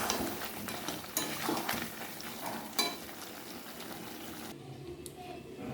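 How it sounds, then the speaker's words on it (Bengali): Chicken biryani masala with kewra water being sautéed and stirred in a pot, a soft low sizzle with intermittent scraping stirs, faint and close, ending in a quieter stretch. "জলটা আর একটু কষানো কষাতে হবে আরও পাঁচ মিনিট ধরে এখন নাড়াচাড়া করে কষাতে থাকবে"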